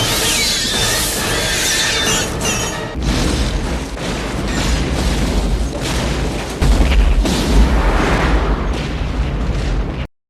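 Heavy booming blasts and rumbling debris from a grenade exploding together with a missile roll on for several seconds, loud and dense, with a second surge of low thunder partway through.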